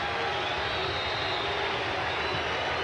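A packed baseball crowd at Yankee Stadium roars in a steady, dense wash of noise with the fans on their feet, loud and continuous, with no single voice standing out.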